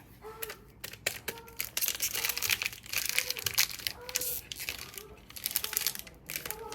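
A foil Magic: The Gathering booster pack wrapper, an Innistrad Remastered pack, is torn open up close, with continuous loud crinkling and tearing crackles and a voice heard faintly underneath.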